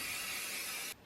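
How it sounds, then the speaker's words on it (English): Spray-on adhesive hisses from an aerosol can onto a shirt in one close, steady burst lasting about a second, then stops sharply. "Then I use the spray and bond, but I make sure I spray it away"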